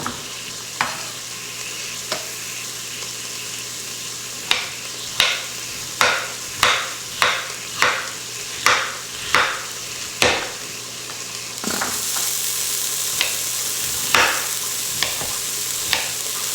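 Garlic and carrots sauteing in a pan, with a background sizzle broken by a regular series of sharp spatula scrapes and taps, close and clear, then a louder burst of frying hiss near the end.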